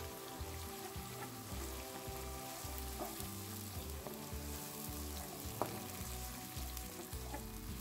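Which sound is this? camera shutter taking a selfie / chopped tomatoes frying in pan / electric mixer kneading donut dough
chopped tomatoes frying in pan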